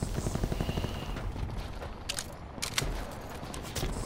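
Gunfire in Call of Duty Black Ops 4 Blackout Ground War: rapid rattling shots and mechanical clatter in quick bursts, moderately loud amid busy game noise.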